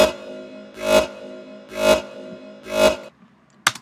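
Layered synth tone from a remix bassline, sounding on the offbeats: three swelling hits at an even pulse over a steady sustained pad, with a sharp click at the end.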